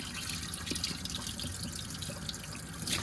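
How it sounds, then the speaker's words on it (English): Water running from a household tap drawing from a hot water tank, a quiet, steady broadband rush with small splashy trickles, continuous and fairly soft. "We're gonna run the tap to make sure that we get water"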